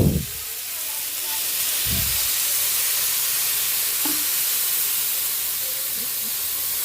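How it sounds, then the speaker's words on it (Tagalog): Broth poured into browned ground meat in a hot pan, a steady hiss and sizzle rising and holding throughout, with a couple of soft low thumps and clinks near the start. "Bigyan natin ng konting sabaw."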